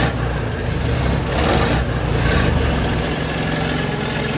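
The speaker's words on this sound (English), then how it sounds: "That switch allows the exhaust to bypass the silencer, making enough noise to frighten off a crowd trying to force their way in." A Rolls-Royce Armoured Car engine runs with its exhaust bypassing the silencer, giving a loud, raw, steady roar that swells slightly midway, heard up close and alone.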